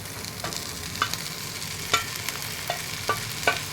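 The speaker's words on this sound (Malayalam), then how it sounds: "എന്നിട്ട് നല്ലതായിട്ട് വെജിറ്റബിളിൽ യോജിപ്പിക്കുക" Cooked Maggi noodles being stirred through vegetables in a pan, with a spatula scraping in a few distinct strokes over a soft, steady sizzle, close and moderately quiet.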